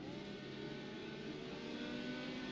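IndyCar engines rev on the grid before a standing start at Monterrey in the iRacing sim, a steady, dense mechanical drone with layered engine tones holding at an even level throughout.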